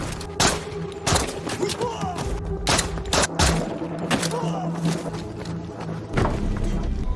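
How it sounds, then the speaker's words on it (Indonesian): Enemy gunfire in a sniper action film about an elite unit fighting arms-trafficking rebels, with repeated sharp loud bursts and single shots cracking over a busy battle background. "ia mendapat tembakan dari musuh"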